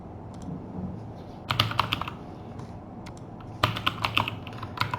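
A computer keyboard is typed on in two quick bursts of close, crisp key clicks over a faint steady background hum.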